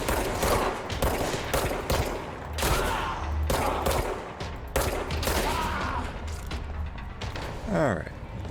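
Repeated gunshots and bursts of shooting from the video game Control crack out at a steady pace, loud and close, while a person talks over the action.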